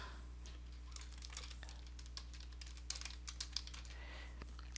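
Computer keyboard keys tapped while entering an email address. Quick, light, irregular keystroke clicks sit close over a low steady hum.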